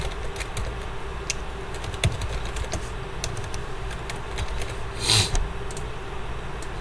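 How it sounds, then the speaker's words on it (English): Scattered keystrokes on a computer keyboard tapping at an uneven pace, close and fairly quiet, with a brief louder cluster of key clicks near the end over a low steady room hum. "Let me type it out."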